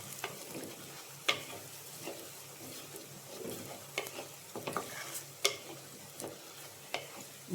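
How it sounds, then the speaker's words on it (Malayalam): A spoon stirs beef liver roast as it fries in a pan, soft scraping strokes and occasional clinks over a steady low sizzle, close but quiet. "വീണ്ടും ഒന്ന് ഇളക്കുക"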